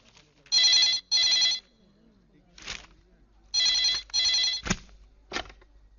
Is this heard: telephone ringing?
yes